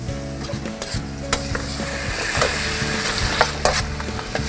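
Tomato and green beans are stirred in a sizzling paella pan, giving close, continuous frying hiss with repeated scraping and clattering strokes, over a low steady hum.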